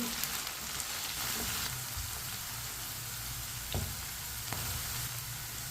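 Okra sizzles steadily in a hot pan over a medium flame, a dense continuous frying hiss close up, with occasional scrapes and clicks of a spoon stirring.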